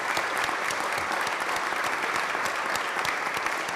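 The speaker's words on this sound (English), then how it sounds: "I'd like to give you all a tremendous round of applause." Sustained applause from Senate staff gathered on a state Senate floor, steady dense clapping filling the room for several seconds with no talk over it.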